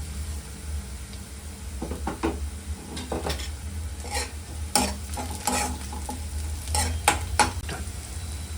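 Chopped onions fry in a pan with a soft, continuous sizzle while a spoon scrapes and stirs through them in several distinct bursts, close and fairly quiet.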